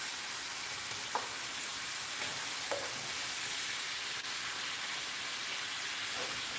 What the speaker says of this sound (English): Cook the zucchini.